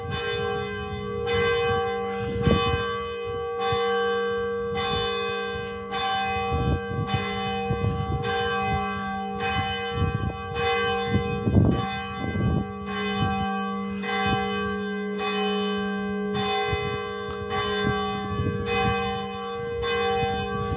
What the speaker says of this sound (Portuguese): Aí está o sino tocando.